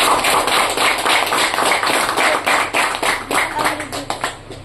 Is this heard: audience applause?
yes